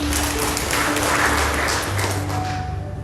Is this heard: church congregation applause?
yes